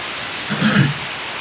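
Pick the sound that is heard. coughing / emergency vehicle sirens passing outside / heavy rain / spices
heavy rain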